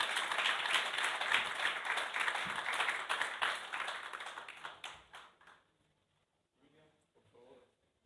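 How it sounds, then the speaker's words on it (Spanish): Audience applause at a conference in Chile: a crowd clapping steadily and fairly loudly for about five seconds before fading out, followed by a brief bit of speech. "Les pido un nuevo aplauso"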